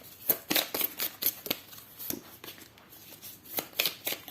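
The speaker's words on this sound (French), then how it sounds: "Ici, je vais vous mettre 2 cartes." Tarot cards are handled and laid out on a surface, giving a string of crisp, close snaps and slaps in an irregular rhythm, quiet overall with no talking.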